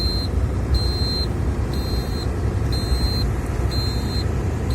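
A truck drives on the road toward a concrete plant in winter. Its engine rumbles steadily while a high electronic beep repeats about once a second in the cab.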